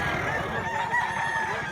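A fighting cock crows at a rooster market in Mantalungon, Cebu, its drawn-out call heard at moderate distance over constant farmyard clucking and background crowd murmur.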